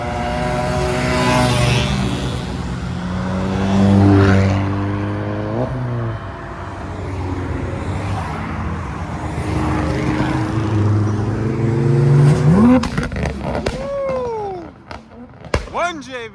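Cars including a black Toyota Chaser and Subaru STI hatchbacks rev and pull away from a Japanese car meet in Reading, England, with engines rising and falling nearby and people talking and cheering over them.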